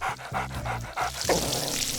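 A dog pants rhythmically up close, then lets out a low rumbling growl near the end.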